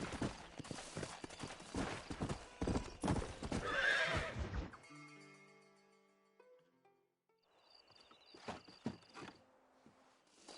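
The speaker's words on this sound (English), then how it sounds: "Horses are over here!" Horses gallop in a Red Dead Redemption game scene, with rapid clip-clopping hooves and a whinny over busy action sounds for about five seconds, then quieter game ambience with scattered sharp hits.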